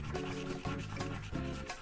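A scratch-off game card at a fairground being scratched, repeated close rubbing strokes in short bursts with brief pauses, no voices.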